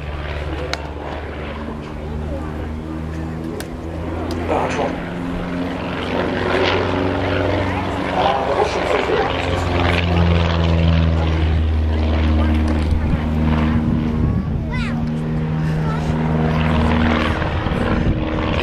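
A Stolp Starduster biplane fitted with a 180-horsepower flat-four Lycoming engine in place of its original radial engine drones steadily with a propeller hum that builds slightly louder, under continuous talk.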